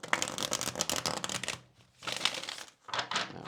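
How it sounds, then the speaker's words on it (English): Tarot cards are shuffled close up in three quick riffling bursts separated by short pauses, a crisp flapping rattle with no voices. "we're gonna go ahead and get a shuffle here."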